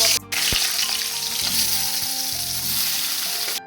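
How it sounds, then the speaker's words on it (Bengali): Pointed gourd and spiny gourd, coated in salt and turmeric, fry in hot oil with a loud, steady sizzle that runs unbroken, marked by a few brief clatters and stirring noises. "তেল দিয়ে দেবো কাঁকরোল আর পটলটা ভাজার জন্য।"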